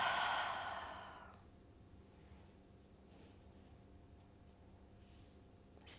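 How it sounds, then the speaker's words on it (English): A soft, slow exhale during a seated yoga twist, a breathy rush lasting just over a second that fades into quiet room tone. "Exhale."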